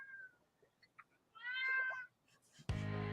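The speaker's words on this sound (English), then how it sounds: "Meow." A cat meows clearly and fairly close by, one drawn-out, rising and falling cry with a few softer chirps around it, followed by an abrupt, loud burst of harmonic noise at the end.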